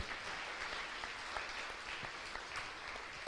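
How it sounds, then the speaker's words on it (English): Indoor audience clapping for a guest speaker at a women-in-print event, a steady, fairly faint patter of applause throughout. "So a big round of applause for our guest speaker today, ladies and gentlemen."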